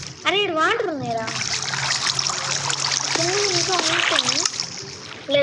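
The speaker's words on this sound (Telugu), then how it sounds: "అరే ఇది వాటర్ ఉన్నాయిరా." Flowing water in a cave during a multiplayer survival video game, a continuous splashing trickle heard under the excited chatter of young players.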